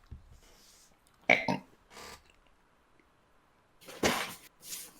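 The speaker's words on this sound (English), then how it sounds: "There's a burp worth having." Cartoonish burp effect in the video game Dragonsweeper, several short guttural belch bursts separated by quiet gaps, fairly soft with no talk.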